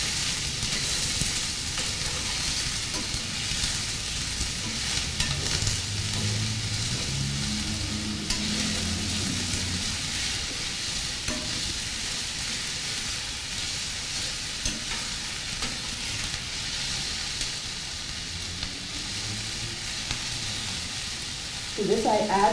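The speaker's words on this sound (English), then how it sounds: "Now I put in my onions and garlic. And I'm going to stir it." Onions and garlic sizzle steadily in a pan for the whole stretch, with a soft hiss and occasional scrapes as they are stirred, audible and continuous.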